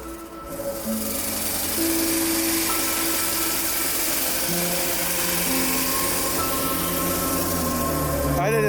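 A rebuilt BMW M5 Touring engine idles steadily with a low droning hum and faint hiss, continuous and close for several seconds, ending with a brief burst of noise.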